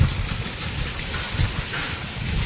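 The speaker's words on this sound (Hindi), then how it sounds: "ओले भी आ रहे हैं।" Heavy rain with hail falls during a violent storm, a dense, loud, continuous roar of water and impacts with a few heavier thumps and no voices.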